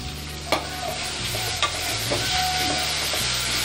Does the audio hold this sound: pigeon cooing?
no